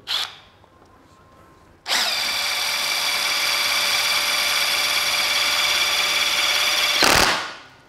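A Bosch GDX 18V-200 cordless brushless impact driver fitted with a 13 mm socket starts after a short quiet pause and rattles in one sustained, loud, close burst for about five seconds before cutting off.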